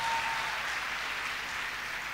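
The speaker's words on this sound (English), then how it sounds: "Can you clap for this woman of God?" An audience at a church gathering claps for a woman being honoured, a steady, moderately quiet patter of many hands filling the short stretch without pause.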